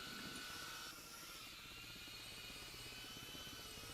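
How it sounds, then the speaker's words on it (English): Rotor thump and turbine whine of an enemy transport helicopter in Arma Reforger, droning steadily and fairly distant across the whole stretch, alone without voices. "Oh, heli. This might be a transport."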